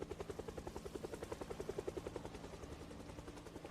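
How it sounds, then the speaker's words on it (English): A helicopter in the game Project Zomboid, its rotor beating in a fast, even chop of thudding pulses that stays faint and distant throughout, with no talk over it. "I'm hiding from the helicopter in the forest."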